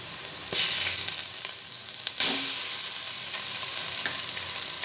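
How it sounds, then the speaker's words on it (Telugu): Ginger garlic paste frying in a pan for chicken biryani gives a steady close sizzle, with louder bursts as the paste is stirred and no talking. "జింజర్ గార్లిక్ పేస్ట్ వేసుకొని ఫ్రై చేసుకుంటున్నాను."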